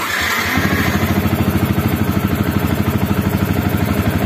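Yamaha Vixion motorcycle engine starts right after the ignition key is switched on, catching quickly and settling into a steady, loud, close idle with a regular pulsing throb.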